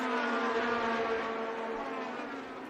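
IndyCar race cars run on track during Indy 500 practice, a high-pitched engine whine droning steadily at a moderate distance and fading slightly as a car moves away.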